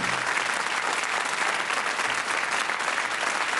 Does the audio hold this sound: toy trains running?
no